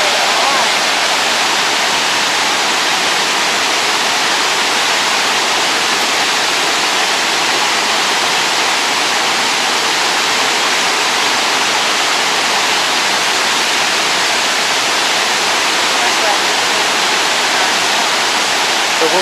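Shoshone Falls roars as a loud, continuous wall of rushing, muddy waterfall water, a dense unbroken hiss close at hand throughout.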